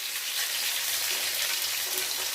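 Cumin seeds and dried red chilies tempering in hot oil with vegetables frying, a steady close hiss and sizzle with fine crackle throughout and no talking.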